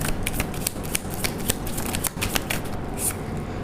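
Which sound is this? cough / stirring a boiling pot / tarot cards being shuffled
tarot cards being shuffled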